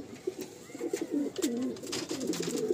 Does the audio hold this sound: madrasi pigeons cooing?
yes